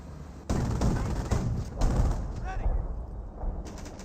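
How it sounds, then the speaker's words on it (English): An artillery barrage in Company of Heroes, with repeated heavy booming impacts and crackling gunfire, loud and sustained, while a commentator talks over it. "we've got some artillery raining on top of these AT guns"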